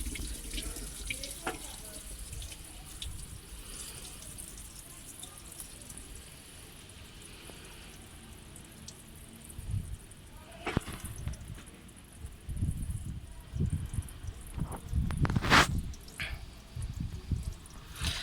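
Coolant drains from a car radiator after the drain plug is removed, a steady splashing trickle of liquid with occasional louder metallic knocks and splashes toward the end, with no talking.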